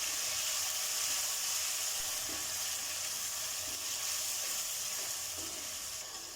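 Tomatoes sizzle in a pan of frying ginger-garlic masala for an aloo gobhi curry: a loud, steady, close frying hiss throughout, with faint stirring scrapes and no talking.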